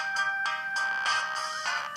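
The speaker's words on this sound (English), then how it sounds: "There's some really dank ringtones in here." Ringtone from an HTC Dream, the T-Mobile G1 Android phone, playing alone as a bright electronic melody of short repeating tones.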